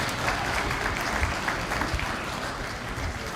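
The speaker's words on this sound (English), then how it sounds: "give a round of applause for C1 and 2" An audience at a high school stage play applauds in a dense, sustained wash of clapping that stays loud and even throughout.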